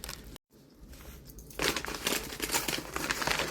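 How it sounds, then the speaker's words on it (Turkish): A gift package being opened, a brief quiet handling noise and a short silence, then loud close crinkling and crumpling of plastic or paper wrapping that carries on steadily with no talking. "Şimdi diğer paketi açalım."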